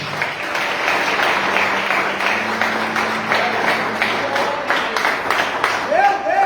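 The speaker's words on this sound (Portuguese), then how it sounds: "Aplauda o Senhor nessa noite." A church congregation applauds during an evening service, dense clapping throughout with a sustained organ or keyboard tone beneath and a voice rising near the end.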